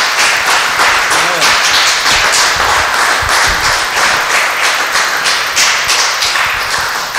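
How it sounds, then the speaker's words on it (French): A church congregation claps in sustained, rapid applause that stays dense and even throughout, with faint voices mixed in. "Et avec des applaudissements"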